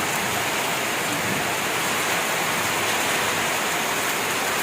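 Heavy rain pours down in a dense, unbroken hiss that stays loud and steady throughout, with no other sounds standing out.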